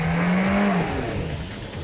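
A tuned Audi A4 accelerates hard from a standstill in a 0 to 60 run, its engine note rising loud and steady as it pulls through the gear, heard from inside the car.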